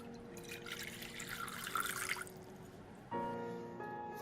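Lukewarm water poured into a bread flour and rye flour mix for crusty rolls, a steady splashing stream for about three seconds, then music takes over.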